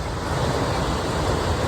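Powerful Norwegian waterfall sending out a steady, loud roar of rushing water, a dense continuous wash of noise with no pauses and no voices.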